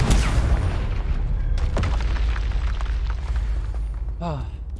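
A Confringo fire spell bursting in the wizarding game Hogwarts Legacy, a heavy booming blast followed by rumbling, crackling debris and a trailing whoosh, with a voice speaking over it.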